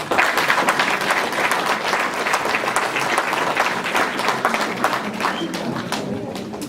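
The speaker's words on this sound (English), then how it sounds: "Come on, clap." An audience at a millet seminar in the USA claps together, a dense, steady round of applause that holds at an even level for several seconds before easing slightly at the end.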